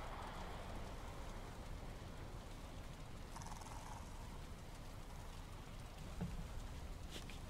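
Steady broadband rain falling in the Valheim video game, a constant even hiss filling the whole stretch with no talk, and a faint brief tick near the end.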